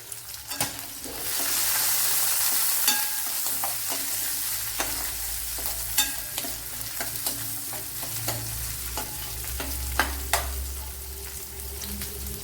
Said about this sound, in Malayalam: ഇവിടെ ഇപ്പോൾ വെളുത്തുള്ളിയും മുളകും എല്ലാം വഴണ്ട് വന്നിട്ടുണ്ട്.